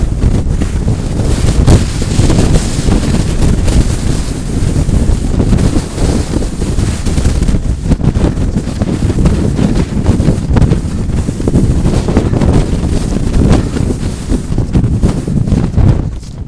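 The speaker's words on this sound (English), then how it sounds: "Woo, this wind." Strong wind roars across the Big Bald mountain summit on the Appalachian Trail at about 5,500 feet, buffeting the microphone with loud, unbroken gusting rumble throughout.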